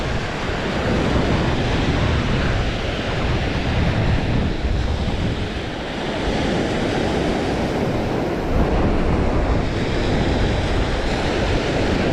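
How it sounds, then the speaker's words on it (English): Waves breaking on the Great Lakes beach at Point Betsie, a continuous wash of surf mixed with gusty wind buffeting the microphone, steady and fairly loud with no voices. "here I am at Point Betsie, one of my all-time favorite Great Lakes beaches"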